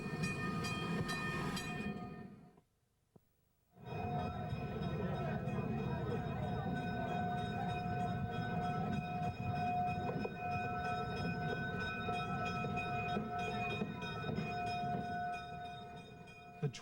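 Vintage Electroliner train at the Illinois Railway Museum, rumbling steadily with a sustained mechanical drone and whine, cut by a brief near-silent gap, then resuming loud and close until the end.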